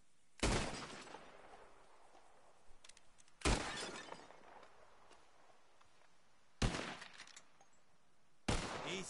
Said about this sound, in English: Whoever shoots more of these balls wins